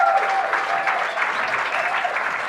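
Sustained applause from a bowling crowd at a televised 1997 World Team Challenge event after a strike, steady and fairly loud throughout with no talk over it.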